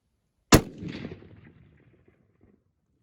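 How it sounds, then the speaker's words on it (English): A single sharp rifle shot fired while zeroing a Huskemaw 5-20x50 Tactical Hunter scope, a loud crack followed by a rolling echo that fades out over about a second and a half. "So we just took our second shot and we're dead on."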